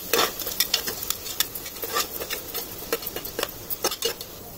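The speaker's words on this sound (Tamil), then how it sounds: "நல்லா வதக்கிடலாம் கொஞ்சம் வர வரைக்கும்." Shallots sizzle in a hot pan for mutton biryani while a spoon scrapes and stirs in irregular strokes, close and fairly loud.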